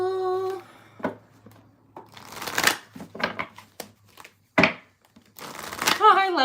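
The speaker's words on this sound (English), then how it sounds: "But we're going to shuffle first." Tarot cards are shuffled in several quick riffling bursts, close by, with a voice talking before and after.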